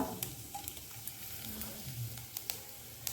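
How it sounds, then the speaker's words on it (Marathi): Cumin seeds, asafoetida and a bay leaf sizzle in hot ghee with a steady low crackle, small pops and spits scattered throughout, fairly quiet and close. "तूप व्यवस्थित गरम झालेला आहे एक चमचा त्याच्यामध्ये जिरं टाकून घेऊया आपण थोडंसं हिंग तेजपत्ता"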